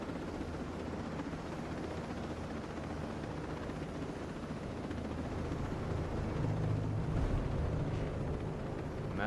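A helicopter flies in Ghost Recon Breakpoint: a steady, close, rumbling rotor drone that holds throughout and swells slightly near the end, with no talk over it.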